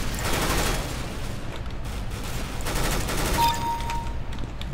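Rapid automatic gunfire rattles in bursts in a Counter-Strike: Global Offensive Arms Race match, dense and continuous with a brief electronic tone near the end and no voices.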